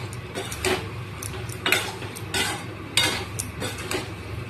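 A metal spoon scrapes and knocks against a pot while ghugni is stirred and sautéed, irregular close clatters and scrapes about every half second to second over a low simmering background.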